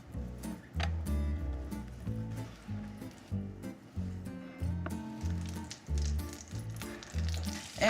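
Floured pork pockets sizzle in olive oil and butter in a frying pan, a steady close crackle with rhythmic bursts as the meat shifts in the pan.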